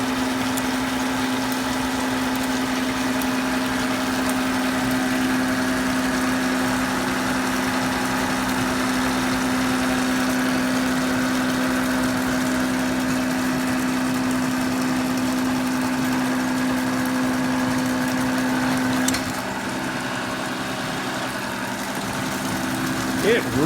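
An antique Gilbarco 80 gas pump runs with a steady electric motor hum and a constant droning tone for a long stretch, close and even, with a brief clunk near the end.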